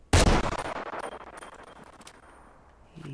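A single loud gunshot fired through a wall in the first-person horror video game Moribund, with a sharp crack followed by a long, fading reverberant tail.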